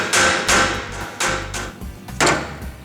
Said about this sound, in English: we'll take our composition hammer, and I'm just going to kind of pick it a little bit and turn it